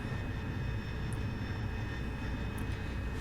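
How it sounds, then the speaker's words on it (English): AV-8B Harrier jet engine held at full throttle for takeoff from the Tarawa in DCS World, a steady broadband roar with a high whine, continuous and moderately loud with no talking. "vector our nozzles down a bit, and full throttle to get off the Tarawa here"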